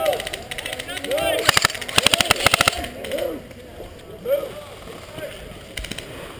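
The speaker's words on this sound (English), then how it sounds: "I heard gunfire on the left side" Airsoft guns fire in rapid bursts of sharp clicking shots during an outdoor field game, set against wind and movement noise, with players shouting between the volleys.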